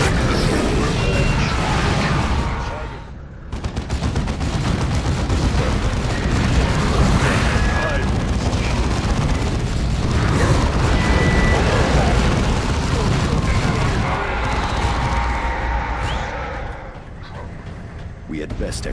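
Grenade blasts and heavy booms in the Warhammer 40000 Dawn of War 2 battle, loud and dense with rumbling low impacts and clattering mechanisms, broken by a short dip before the barrage resumes, with voices speaking over the din.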